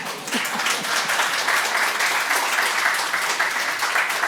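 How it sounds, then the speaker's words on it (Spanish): After a reading of Jorge Luis Borges poetry at a lecture event, the audience breaks into steady, moderately loud applause that stays even throughout, with no voices heard. "Aplauso."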